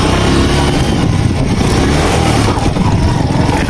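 A motorcycle engine revving hard on a rough hillside track near Tulsipur, Dang, a loud, close mid-pitched drone that rises and surges continuously with no voices over it.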